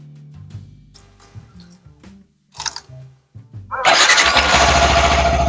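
Yamaha WR 155R trail motorcycle with variable valve actuation: a low, uneven idle and light blips, then a sudden loud, sustained high rev for the final couple of seconds, close by.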